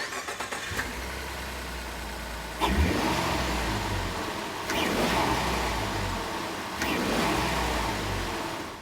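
A 2012–2014 Ford F-150 with the 3.5L EcoBoost V6 and a Roush cold air intake cranks and starts, settling into a steady rumbling idle that is punctuated by three louder blips of revving, all heard close up.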